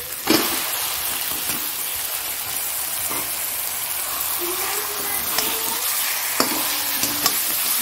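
Chicken frying in a pan with ground spices, chilli powder and tomato, a steady sizzle with intermittent stirring scrapes and a few sharp clinks.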